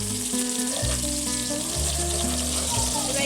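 Ginger garlic paste fries in oil along with onions and chillies, giving a steady close sizzle that runs under background music.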